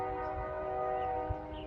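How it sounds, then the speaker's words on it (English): A train passes in the background, its horn holding a steady, sustained multi-tone blast throughout, moderately loud and alone, with a low rumble beneath. "A train just went by."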